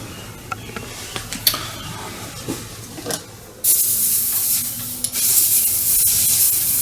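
An airbrush spraying paint onto a StuG III Ausf G model tank: a few faint clicks and taps, then a loud, steady close hiss of spray that breaks briefly and starts again.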